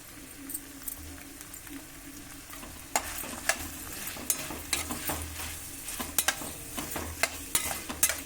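Cauliflower frying in a pan with coriander powder, stirred with a spoon: steady sizzling throughout with repeated scraping clinks of the spoon against the pan, close and fairly loud.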